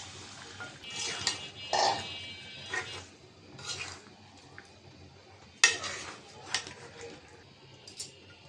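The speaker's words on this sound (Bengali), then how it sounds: "ভালো করে নাড়াচাড়া দিয়ে দিলাম" Chicken and potato curry stirred in a pot, with a spoon clinking and scraping against the metal in irregular bursts and sharp knocks, separated by quieter gaps.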